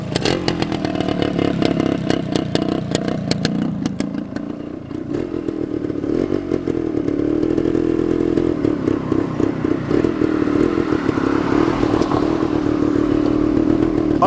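A 1973 Suzuki TS250K two-stroke motorcycle rides past and pulls up close, its engine buzzing and rasping through revving and throttle changes before holding a steady, loud idle, with rattly mechanical clatter throughout.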